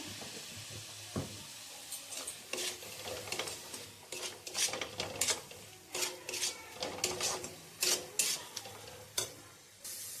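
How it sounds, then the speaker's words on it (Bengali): Spices stirred in a pan with a splash of water for a chicken dish cooked without oil: steady scraping strokes of a spoon against the pan over a soft sizzle, rhythmic and close, growing busier partway through. "তারপরে সব মশলাগুলো একসঙ্গে ভালো করে মিলিয়ে নাড়তে থাকবো।"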